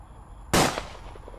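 One sharp gunshot-style bang cracks loudly out of a quiet background and decays quickly, in a comedic Squid Game parody.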